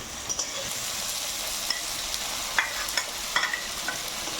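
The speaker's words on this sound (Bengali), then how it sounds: "মশলাটা একটু ভালো করে কষিয়ে নেব।" A spice paste of cumin, coriander, turmeric and red chilli powder frying in a pan, a steady hissing sizzle with occasional light spoon taps and scraping as it is stirred.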